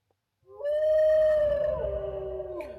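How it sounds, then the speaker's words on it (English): A wolf howl sound effect from a Rivian's Halloween mode: one long, loud, steady howl that rises, holds, then bends down in pitch, with a low rumble underneath and no talking. "This is a wolf"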